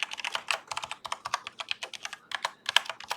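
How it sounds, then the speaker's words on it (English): Fast, continuous keystrokes rattle from a computer keyboard close to the microphone, with irregular clicks and brief pauses and no talking. "So this keyboard should be a little quieter."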